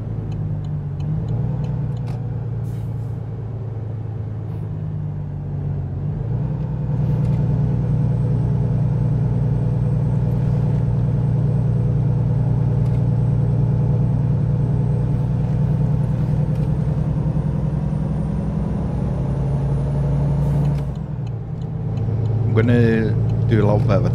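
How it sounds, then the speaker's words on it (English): Cars and trucks passing on a road, heard as a loud continuous engine rumble and tire roar that swells into a long pass-by lasting most of the stretch, then eases off near the end. "on high alert for any cars and trucks that are passing me just now"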